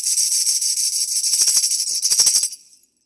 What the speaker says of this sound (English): And when I shake it, it sounds like this.